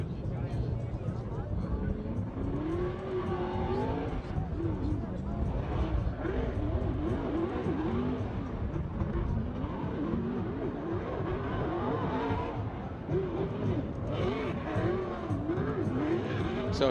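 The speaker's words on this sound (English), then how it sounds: "warming up his Nitto tires. This is an all Nitto tire battle." Vaughn Gittin Jr.'s drift car warms up its Nitto tires before a Formula Drift battle, the engine revving hard with tire squeal in the distance, while a commentator talks steadily over it.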